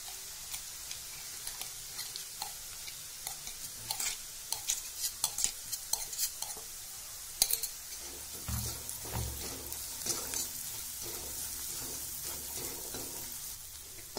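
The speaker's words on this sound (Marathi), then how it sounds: "त्यामध्ये आपण मिक्सरमधून खोबरं, आलं, लसूण याचा गोळा वाटलेला असतो ना तो घालायचा." Onion sautéed in a kadhai with ground coconut, ginger and garlic paste, a soft sizzle under repeated scraping and stirring clicks of a spoon against the pan, close up with no talk.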